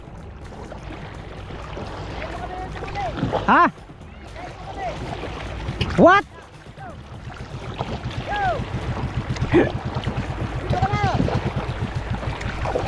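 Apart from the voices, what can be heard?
boat on water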